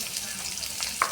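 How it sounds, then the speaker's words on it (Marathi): Chopped onion with cumin and green chilli frying in a spoonful of oil, a brief close sizzle with soft crackles and one sharper pop near the end, no voices. "कांदा चांगला तळून घ्यायचा आहे"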